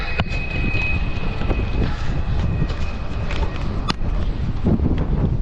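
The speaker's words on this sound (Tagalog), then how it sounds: "Ang lakas ng hangin, napakalakas ng hangin." Strong wind buffeting the microphone on a roadside stop in Rojas during a North Luzon motorcycle loop, a constant loud rumbling roar with gusty bursts, no clear talk over it.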